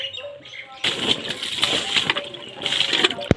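Water from buckets splashing onto a village yard floor, a sudden gushing spatter that runs for a couple of seconds and then comes again, close and fairly loud.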